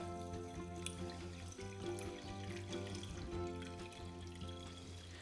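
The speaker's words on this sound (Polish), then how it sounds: "Wykorzystujemy zimną wodę, najlepiej robić to bezpośrednio pod kranem" Cold water runs gently from a kitchen tap over rice being rinsed for a poke bowl, a soft, steady trickling stream heard close and fairly quiet, with no talking.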